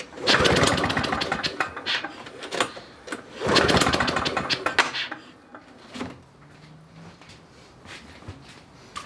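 Two-stroke lawn mower engine pulled over repeatedly in two long loud bursts, each cranking attempt a rough rapid chatter, followed by a quieter low sputtering stretch as it briefly catches and fades.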